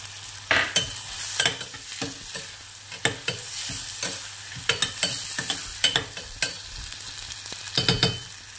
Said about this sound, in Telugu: నెక్స్ట్ గ్రీన్ పీస్ యాడ్ చేస్తున్నాను